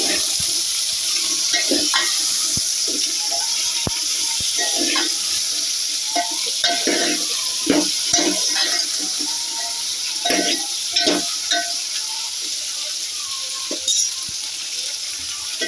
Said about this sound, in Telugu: దాంట్లోనే బెండకాయ ముక్కలు అయితే వేసుకుందాం.